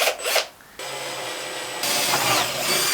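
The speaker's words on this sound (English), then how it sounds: "Let's first drill a pilot hole." A short burst of drilling a pilot hole through a wooden worktop, a brief pause, then a steady, close grinding whir that gets louder near the end.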